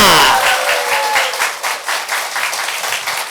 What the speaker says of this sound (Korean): 박수 한번 쳐야 된다니까!